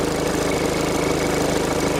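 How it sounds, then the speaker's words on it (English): A car engine, jump-started with a battery booster pack, runs at a steady loud idle, an even rumbling drone close by with no voices. "let's disconnect it and start the engine up"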